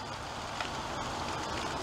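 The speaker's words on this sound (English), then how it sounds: "and it's raining" Steady rain falls and patters on surfaces outside a garage in February, a constant broadband hiss that stays at the same level throughout with no voices.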